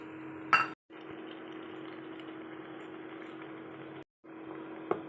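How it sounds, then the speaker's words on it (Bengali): Pumpkin pieces dropped into a pot of hot water, a clink at the start and another near the end over a steady bubbling hiss, close with no voices, briefly cut to silence twice. "পানি গরম করে নিয়েছি, এখন মিষ্টি কুমড়াগুলো দিয়ে দেব"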